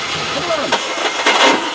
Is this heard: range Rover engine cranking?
yes